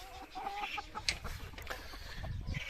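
Lohmann hens inside a henhouse give soft, scattered clucks and low murmuring calls, fairly faint and close, over a dim barn background.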